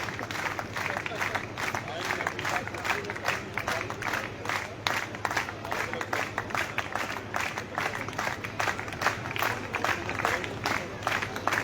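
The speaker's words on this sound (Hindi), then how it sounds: "बिल्कुल ताली रुकनी नहीं चाहिए एंड तक" Rhythmic unison clapping from an audience at a women's college convocation ceremony, steady beats repeating throughout with crowd noise and talking underneath.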